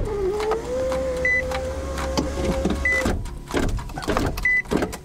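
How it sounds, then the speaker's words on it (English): Power window motor in an Infiniti G35 / Nissan 350Z whirring as the door button is pushed and released repeatedly, with a steady hum that stops, followed by clicks and short beeps, close up. "I'm going to push this door button quickly 10 times. Push down, release, repeat 10 times."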